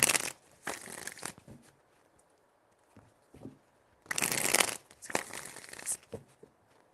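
Tarot cards are shuffled in quick riffling bursts, close and crisp, with short quiet gaps between the shuffles and no speech.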